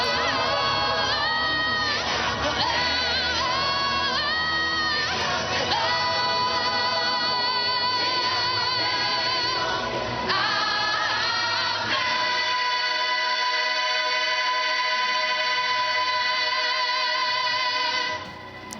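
A huge crowd of about 20,000 faithful gathered near the cemetery in Alessano, Italy, cheering for Pope Francis, with sustained loud crowd noise and tonal chanting or singing throughout, fading toward the end.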